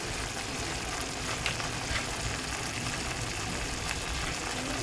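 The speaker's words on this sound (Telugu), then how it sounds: "మసాలా ఫ్రై అయిపోతూ ఉంది." Masala sizzling steadily in a hot pan, seasoned with rock salt and turmeric, a dense continuous crackle and hiss at moderate level with no pauses.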